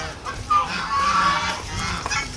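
Ducks call out nearby in a flooded rural Vietnamese countryside, a few short nasal honking quacks over outdoor background noise, with no voices during the calls.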